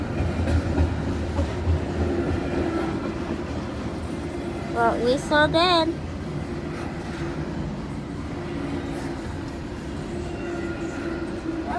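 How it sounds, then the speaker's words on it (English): A BNSF freight train rumbles past at Camp Road in Moreland, Georgia, a steady low rolling drone with a brief squeal of wheels midway, while people talk nearby. "See that other train, everyone?"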